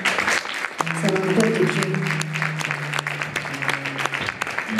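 Concert audience applause at L'Empreinte in Savigny-le-Temple, a steady wash of clapping under a voice and sustained instrument tones as the band is introduced.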